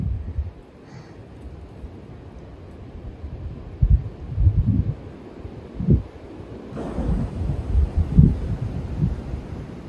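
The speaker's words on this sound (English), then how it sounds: "You're watching the trees sway in the wind." Wind gusts rush through trees on a mountainside, with low rumbling buffets rising and falling and stronger surges toward the end.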